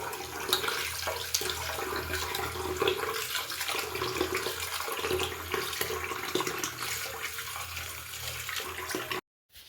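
Millet grains being washed in water give a continuous splashing, running-water wash of swishes and sloshes close by, ending with an abrupt stop.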